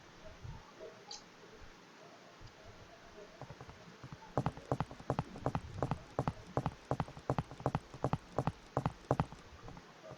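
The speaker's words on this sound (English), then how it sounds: "Now you can hear their footstep sound" Enemy footsteps in a Unity third-person mobile shooter play as a steady run of sharp, evenly spaced steps, close and fairly loud, starting a few seconds in and continuing to the end over a faint background hum.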